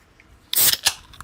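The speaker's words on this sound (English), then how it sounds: "That is the sound of my monster being opened." A Monster energy drink can cracks open with a sharp snap followed by a brief fizzing hiss and a small second click, close and alone in a quiet room.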